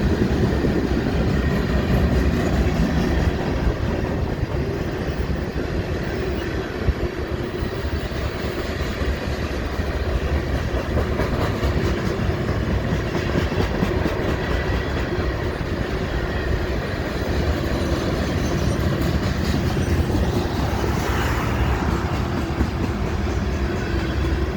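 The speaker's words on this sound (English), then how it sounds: "This train ain't going too fast. But it ain't going slow though." A freight train rolls steadily through downtown Normandy, Tennessee at moderate speed, a constant loud rumble of wheels and clattering cars close by, with faint squeals near the end.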